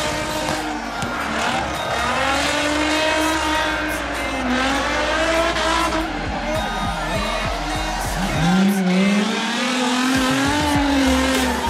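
A drift car at a drifting championship revs hard and its tires squeal in long wavering howls over a roaring engine, loud and close, lasting throughout with brief voices mixed in.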